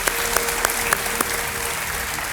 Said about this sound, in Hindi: तालियों के साथ हम इनका अभिनंदन करते हैं